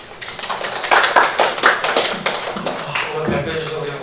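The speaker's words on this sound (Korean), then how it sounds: "다시 한번 박수 한번 부탁드리겠습니다" Applause from an audience at a provincial council research briefing, a dense, steady patter of clapping that fills the room throughout, with speech mixed in underneath.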